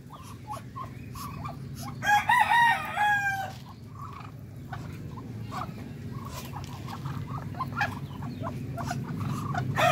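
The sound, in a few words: rooster crowing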